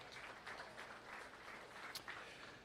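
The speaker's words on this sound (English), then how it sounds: "Give her a round of applause as well" Faint, distant applause from spectators at a 4-H dairy cattle show, a steady patter of scattered clapping heard from far off.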